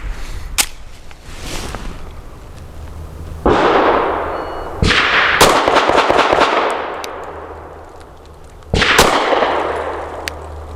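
A Mossberg MC2sc pistol firing 115 grain ball ammunition outdoors sounds as several sharp, loud gunshots spaced a second or more apart, each followed by a short ringing decay, with other nearby shots mixed in.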